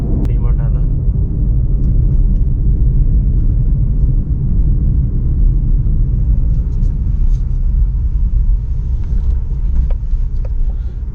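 A brand-new red car cruising on a road, with a steady, loud low engine and tyre rumble filling the whole stretch while a person talks over it.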